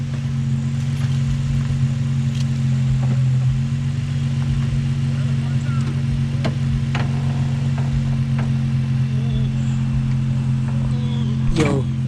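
Infiniti G35 fitted with a Z1 Motorsports JWT Pop intake runs with a steady idle drone and a few mild revs throughout, with people talking over it nearby.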